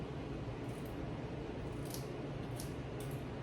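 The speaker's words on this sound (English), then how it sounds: "I'm gonna just cut this off. Cut this part off" Scissors snip through fabric during a sewing project, a few short crisp cuts heard close up over a steady background hiss.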